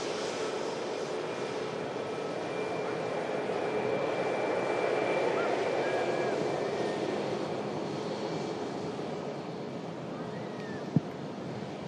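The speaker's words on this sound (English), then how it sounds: "the Emirates A380 has started the pushback" An Emirates Airbus A380 being pushed back gives a steady, broad engine whine and rumble that swells gently midway, with a single sharp click near the end.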